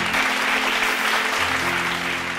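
An audience applauds at a professional talk: dense, sustained clapping from many hands that holds at an even, loud level throughout.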